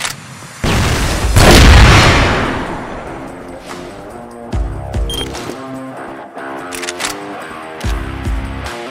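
A flash bomb detonates in the CrossFire video game with a loud broadband boom that decays over a couple of seconds, followed by game sounds and repeated thuds.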